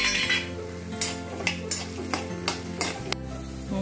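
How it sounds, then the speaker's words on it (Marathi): Peanuts being stirred and roasted in a pan for thin-poha chivda: a sizzling bed of sound broken by about seven sharp, regular scraping and clinking strokes of a spoon against the pan, close and fairly loud. "आता हे शेंगदाणे आहेत, हे शेंगदाणे याच्यामध्ये घालते. ते पण आपण चांगले भाजून घेऊया."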